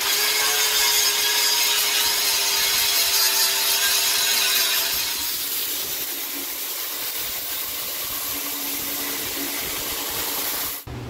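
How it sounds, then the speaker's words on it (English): A grinder works down a chain canister Damascus steel billet with a steady, loud, rasping hiss that eases slightly partway through and cuts off abruptly at the end. "So now it's time to grind it down and reveal what pattern we got underneath."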